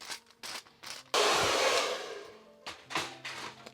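A hair dryer blows in bursts at a salon balayage highlighting session, short starts and stops followed by a long, loud continuous blast that fades back to brief on-off pulses.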